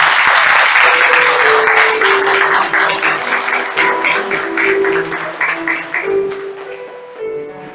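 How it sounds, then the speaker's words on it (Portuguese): Church congregation applauding after a sermon, dense sustained clapping filling the room loudly and tapering slightly toward the end, with a held organ or keyboard tone underneath. "Dê a Ele uma salva de palmas em nome de Jesus"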